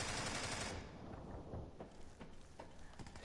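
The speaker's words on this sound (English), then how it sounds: "I'm shooting at him through the wood." Rapid bursts of video game gunfire fired through a wooden barrier, a loud dense crackle at first that thins into scattered, fainter shots.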